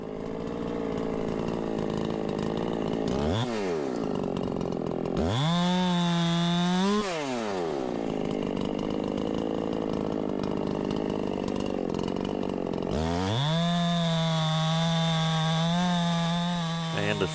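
A Stihl or Echo chainsaw cuts firewood outdoors in a sunny pasture, its engine loud and close, revving up into three separate cuts with idling between them and no voices.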